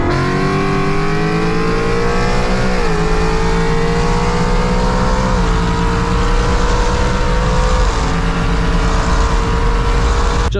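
A loud Ford Mustang 5.0 V8 engine with a 10R80 ten-speed automatic drones steadily with harmonic whine, its pitch rising and dropping through several gear shifts, continuous and close throughout.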